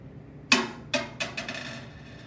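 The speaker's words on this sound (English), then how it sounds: "the metal washer, that it made that long sound" A small metal washer dropped inside a drop chamber hits with a bright metallic clink, then bounces several more times, each ring quicker and fainter, settling with a light rattle, heard alone and close.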